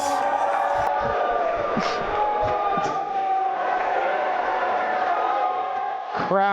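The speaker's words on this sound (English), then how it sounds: "Crowd is loud." A loud crowd at an MMA event cheers and roars steadily as a fighter is introduced, with voices mixed into the noise.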